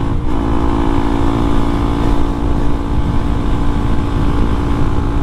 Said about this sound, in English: we got the first trip out here on the Grom after the upgrades